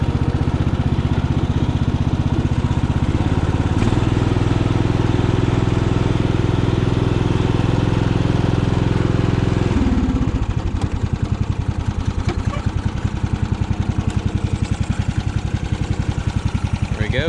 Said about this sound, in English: We got a motor up and running, sounds super quiet.